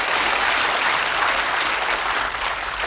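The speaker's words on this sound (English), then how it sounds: "Give Ceri a nice warm round of applause as we throw for charity" Warm studio audience applause at a 1981 Bullseye darts game show, loud and steady throughout, a dense continuous wash of clapping with no talk over it.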